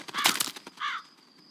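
A crow caws loudly and close in a movie scene, a harsh call followed by a shorter second caw as the sound fades.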